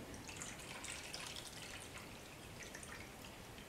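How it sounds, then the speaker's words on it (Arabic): Water being poured into a harissa and tomato sauce for stuffed artichokes, a faint, steady trickle with light splashing and dripping in a quiet kitchen, with no voices. "ماء باش نحلك الهريسه والطماطم"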